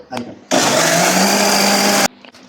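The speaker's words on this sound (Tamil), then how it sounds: "அதே மாதிரி 2 தடவை போட்டு அரைச்சி மாவாக வச்சுக்கோங்க" A mixer grinder whirs loudly at full speed grinding adai batter, a sudden harsh roar lasting about one and a half seconds before cutting off abruptly, with brief talk and handling before and after.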